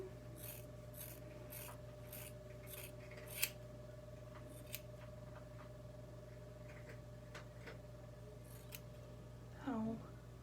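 Scissors snip through curly hair in a home cut, a rapid run of crisp close snips followed by scattered single cuts over a steady electrical hum, with a brief murmur near the end.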